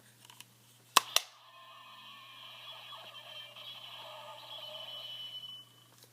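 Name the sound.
toy morpher closing sound effect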